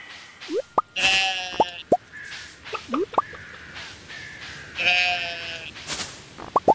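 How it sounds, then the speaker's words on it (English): Cartoonish sheep bleats from the farm game Stardew Valley, several short wavering calls repeating in bursts among light plops and chirpy game sound effects, clear and close with no talking. "Sheep."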